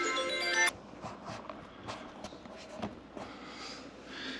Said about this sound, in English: I'm getting a phone call anyways